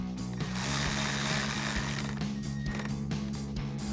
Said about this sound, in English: We're gonna use our 10mm socket and remove the nut off